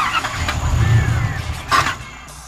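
A turbocharged 1UZ engine fitted in a Mazda RX8 cranks over briefly without catching, a steady close mechanical whirring that lasts about two seconds.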